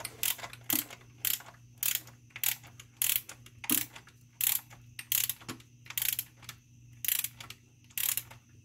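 A ratchet wrench tightening rocker arm bolts on a 1995 Jeep Wrangler YJ 2.5 litre four-cylinder engine, about fifteen rhythmic rasping clicks in steady strokes, close and loud over a low hum.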